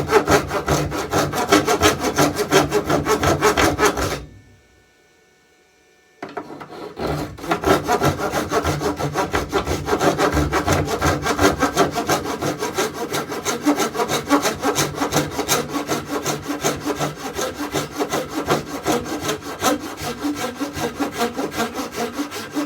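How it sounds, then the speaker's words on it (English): A coping saw cuts through wood for a new tool handle, rasping close and loud in fast, steady back-and-forth strokes. It stops for a two-second silence, then the sawing resumes at the same rhythm. "I may just go all the way with that"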